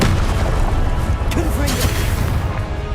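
Spells cast in the Hogwarts Legacy video game, dense booming bursts and crackling blasts in quick succession, loud and continuous, with a voice calling out over them.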